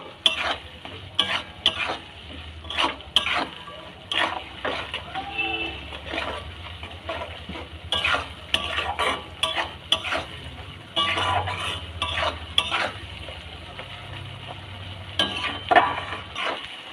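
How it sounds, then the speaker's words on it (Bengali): A spoon scrapes and stirs spice masala with black pepper and cumin powder in a hot pan for khichuri, a rhythmic run of close scraping strokes and clinks over a soft, steady sizzle. "মশলাটা খুব ভালোভাবে কষিয়ে নেব"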